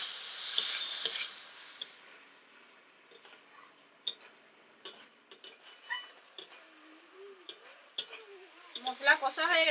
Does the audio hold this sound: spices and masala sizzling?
yes